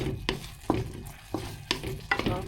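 Sweet and sour sauce for sea bream is stirred in a pan, with a sizzling bed and a few distinct scraping strokes of the spoon at irregular intervals, close and moderately loud, with no talking.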